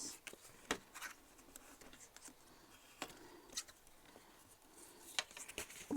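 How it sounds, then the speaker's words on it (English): Paper pop-up card for a hexagon design being folded and burnished on a desk, with faint, quiet rubbing and scraping strokes and a few sharper creasing ticks spread unevenly across the stretch. "so let's do a bit of folding and burnishing on this."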